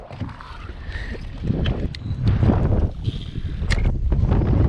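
Strong gusting wind buffets the microphone outdoors at a fishing spot, a loud, rumbling, uneven roar that builds and surges throughout, with watery splashing beneath it and no clear talking.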